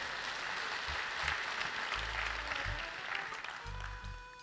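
Audience applause at a 2004 concert in Makubetsu, a dense steady clapping from a crowd that holds for several seconds, with low thumps underneath.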